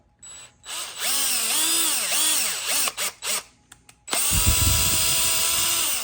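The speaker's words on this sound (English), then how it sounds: "I'm going to drill it with a 1/8 drill bit" A power drill with a 1/8-inch bit whirs in short bursts, its motor pitch rising and falling, then runs loud and steady as it bores through a wooden rod.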